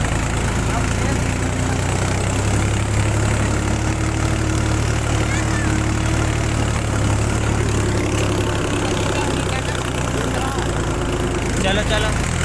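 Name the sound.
Powertrac 434 tractor engine revving hard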